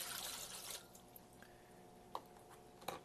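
Water tipped out of a small fish-tank container, a soft steady pour that thins after the first moment into sparse drips and a couple of faint splashes, close and quiet with no talk.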